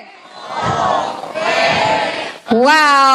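Crowd of students at a school handwashing event shouting a drawn-out 'WOW' cheer together, loud and close, in two surging bursts before a final rising voiced cry.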